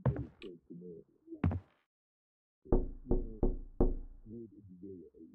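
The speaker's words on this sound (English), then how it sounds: "It's a knock in my bedroom." Knocking inside a bedroom in a scary video game: a run of four distinct, evenly spaced raps, with a person talking before and after.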